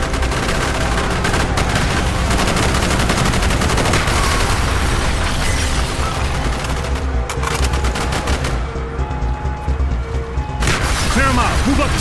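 Heavy, continuous gunfire in a Call of Duty Black Ops street battle, loud overlapping automatic bursts and explosions throughout, with shouted voices mixed into the din.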